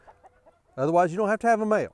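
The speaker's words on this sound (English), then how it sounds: "You can hear that guy up there crowing, I think probably in the background." Rooster crowing nearby in a backyard chicken flock, one drawn-out strained call with a few rising and falling pulses following a brief stretch of quiet speech.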